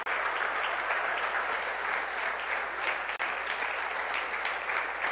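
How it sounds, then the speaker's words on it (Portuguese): Church congregation at a Sunday evening service applauds steadily, a dense, even wash of clapping with a low constant hum beneath and no voices over it. "põe força na tua mão, aplaude e glorifica o nome do Senhor."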